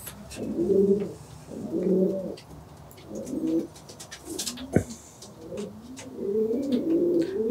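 Pigeons coo in a racing-pigeon loft with deep nest cells, giving repeated soft, rolling calls in short bursts, close by, along with a few light clicks and rustles between them.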